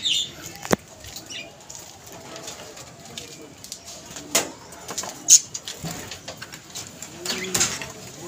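Pigeons in a rooftop pigeon loft beat their wings in short bursts, several flurries of flapping close by. Soft cooing and faint voices are heard in the background.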